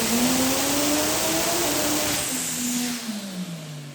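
A vehicle engine run at full throttle on a MAINLINE PROHUB EXTREME 6000CCS dyno roars loudly and evenly, its pitch wavering, then drops away as the revs fall near the end.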